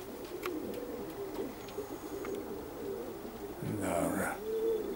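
Sverdlovsk breed pigeons coo near the end, a burst of throaty rolling calls rising over a steady low murmur of background cooing from the loft.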